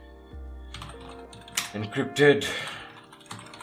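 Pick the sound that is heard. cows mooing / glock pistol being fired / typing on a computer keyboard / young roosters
typing on a computer keyboard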